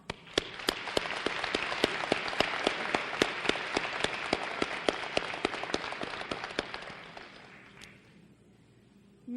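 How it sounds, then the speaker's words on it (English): Applause at a high school graduation ceremony, dense and sustained from a large crowd with sharp individual claps standing out, loud and steady for several seconds before trailing off at the end. "Let's give them a round of applause."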